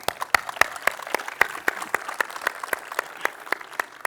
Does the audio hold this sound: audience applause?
yes